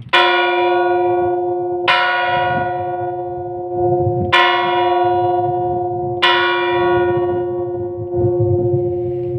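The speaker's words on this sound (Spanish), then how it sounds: "En caso de que la campana fuera bandeada, es decir, que no diera su vuelta entera" A large church bell in Trébago, Soria, swung partially, tolls slowly, four strong strikes spaced about two seconds apart, each ringing on with a long, humming decay.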